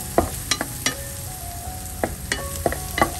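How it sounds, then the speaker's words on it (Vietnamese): Lemongrass stir-fried with blended garlic and shallot in hot oil, a soft steady sizzle punctuated by several sharp scraping stirs of a utensil against the pan, close and fairly loud with no talking. "Nó thơm rồi mình cho xả vào, mình xào chung luôn."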